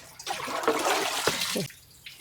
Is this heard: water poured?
yes